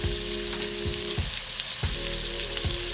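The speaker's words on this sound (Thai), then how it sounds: "เพราะว่าเราต้องผัดให้บัตเตอร์นัทมันนิ่มนะคะ" Butternut squash stir-fried in a pan, a steady close sizzle with a few scraping strokes of a utensil against the pan at regular intervals.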